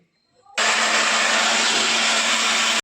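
A mixer grinder blending onion paste kicks on abruptly and runs at a loud, steady whir for a couple of seconds, a high mechanical roar without pause.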